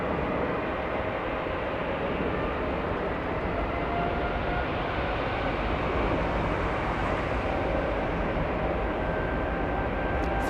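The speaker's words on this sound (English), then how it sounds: "Avianca getting a move on. There she goes, powering up." An Avianca airliner powers up for takeoff on runway 24 left at Los Angeles International Airport, a steady, loud jet engine roar with a broad rushing rumble that holds without break.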